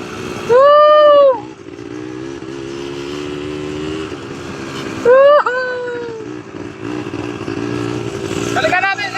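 An ATV engine revs hard twice in short, loud, rising bursts during an outdoor ride, with a steady engine drone between them and voices talking and shouting over it.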